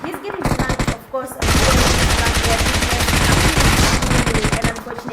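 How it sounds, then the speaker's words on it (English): Rapid bursts of gunfire crackle through a PUBG pro league match, a brief volley, a pause, then a long sustained stream of loud shots that keeps going near the end. "he's getting sniped"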